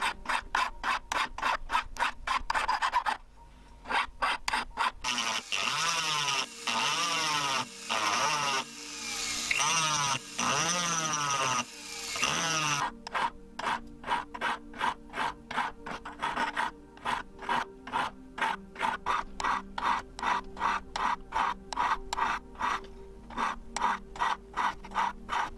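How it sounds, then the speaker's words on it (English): A hand file rasps against a cast silver ring in rapid rhythmic back-and-forth strokes, dense and close, broken midway by a longer stretch of smoother grinding before the quick filing strokes return. "Lots of filing and grinding."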